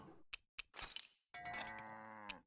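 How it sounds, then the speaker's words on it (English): A few quick clicks and a brief scrape, then a drawn-out cartoonish moo of a cow in the video game Tales of Arise, clean and close, ending with a small click. "Let's raise a cow,"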